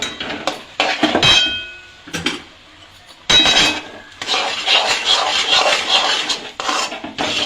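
Rice flour stirred into a pan to form dough, giving scraping, rasping strokes with metallic clinks of spoon against pan, in irregular bursts and then a steadier run of scraping.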